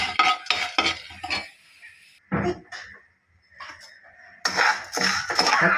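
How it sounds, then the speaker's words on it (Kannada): A spoon stirs and scrapes pepper and cumin roasting in ghee in a pan, giving close, intermittent scraping bursts with short pauses between them. "ಸ್ವಲ್ಪ ತುಪ್ಪ ಹಾಕ್ಕೊಂಡಿದ್ದೀನಿ, ಮೆಣಸು ಸ್ವಲ್ಪ, ಜೀರಿಗೆ ಸ್ವಲ್ಪ ಹುರ್ಕೊತಾ ಇದ್ದೀನಿ"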